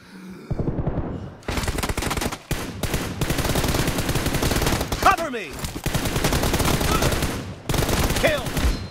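Rapid automatic gunfire in the battle royale shooter PUBG during a 1v1 team deathmatch on a glacier map: dense, loud bursts running almost continuously, broken by short gaps, with sharp whooshing effects between volleys.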